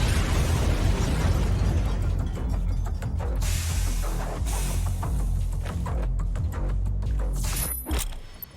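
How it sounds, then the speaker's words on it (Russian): Heavy sci-fi BFG 9000 blasts from Doom Eternal, bursting explosions and crackling energy booms that rise and fall over several seconds, loud and dense. "БФГ-9000 может убить большинство демонов одним выстрелом."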